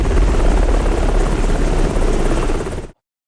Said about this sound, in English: Soon after, the team boards a chopper and jumps onto the island without getting noticed.